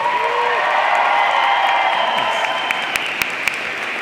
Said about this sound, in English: I invite the members of the graduating class to reciprocate by applauding your family, friends, faculty, and staff